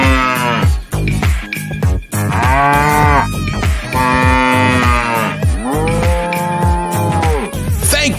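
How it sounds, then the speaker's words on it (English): A cow moos loudly and repeatedly in long drawn-out bellows, several calls close together with brief gaps, no talking. "Thank you, cow."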